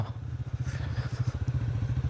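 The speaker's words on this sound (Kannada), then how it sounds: "ಇಂಜಿನ್ ಬ್ರೇಕಿಂಗ್ ಮಾಡಿಕೊಂಡು ಇಳಿಸ್ತಾ ಇದ್ದೀವಿ" A motorcycle engine thrums in quick, even pulses at low revs in second gear, a rhythmic putter of engine braking down a steep descent, close by and without talk.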